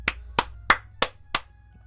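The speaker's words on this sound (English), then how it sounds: "Round of applause." Five sharp, evenly spaced claps ring out alone in a quiet room, close and crisp, like a single person slowly applauding.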